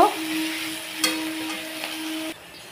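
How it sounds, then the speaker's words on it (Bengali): Onions frying in oil give a moderate sizzle with a couple of stirring knocks, under a steady low hum that cuts off near the end. "পেঁয়াজটা আমি দিয়ে দিয়েছি, এবার একটু ভাজা ভাজা করব।"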